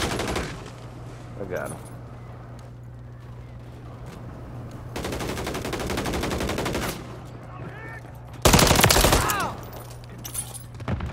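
Gunfire in the Call of Duty video game: a sustained dense burst of automatic shots, then a sharper, louder volley near the end, under steady background game noise with players talking over it.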